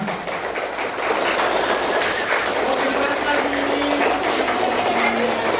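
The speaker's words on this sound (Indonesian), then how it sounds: "Tepuk tangan yang panjang untuk TK Islam dan Assalama" Kindergarten children at an Isra' Mi'raj storytelling event clap at length, a dense, continuous wash of applause that grows louder after the first second, with voices mixed in.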